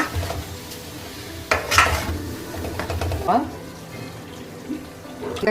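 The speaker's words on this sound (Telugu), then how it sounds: "చికెన్ వేయించిన నూనెలోనే. తెల్లగడ్డ 1/2 కేజీ ఎర్రగా వేయించుకోవాలి." Garlic and ginger fried in oil left from frying chicken for a Guntur-style chicken pickle: pot and utensil clatter and light sizzling beneath someone talking.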